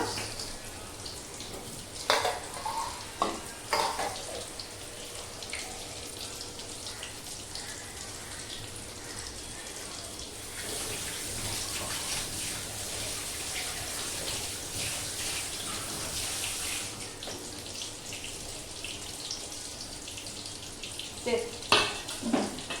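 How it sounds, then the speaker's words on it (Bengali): Chicken cheese balls frying in oil over lowered heat, giving a steady soft sizzle and crackle throughout with occasional louder bubbling bursts and light stirring clatter, no voice over it. "একটু একটু করে ভাজা হচ্ছে।"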